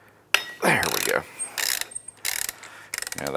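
During Can-Am Outlander clutch work, an Allen key falls off with a sharp metallic clatter and a few tinny rattles and clinks. Bursts of workshop noise and brief talk come through nearby.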